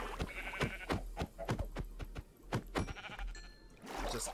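Sheep bleat repeatedly in Minecraft, with several short, wavering cries coming in quick uneven succession amid clicky game sounds and a low background hum.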